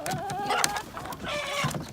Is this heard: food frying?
no